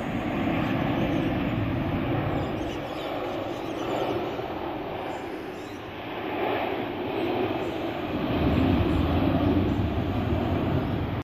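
A Singapore Airlines jet on approach into Sydney Airport passes over Petersham railway station, a broad, steady engine roar that swells and fades slightly and rises again near the end, heard from the ground without talk.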